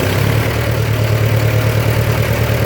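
A 1966 John Deere tractor engine runs a steady, loud low drone for a few seconds, close up and with no talking.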